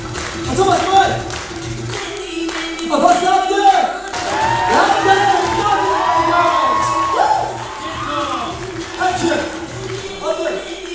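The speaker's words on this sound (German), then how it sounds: "Und einen kräftigen Applaus bitte von euch für die Jungs." A crowd at a martial arts breakdance show cheers, whoops and claps for a group of performers in loud, surging bursts, with a voice talking over the noise.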